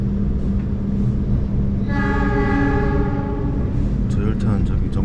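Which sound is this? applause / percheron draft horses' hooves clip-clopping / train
train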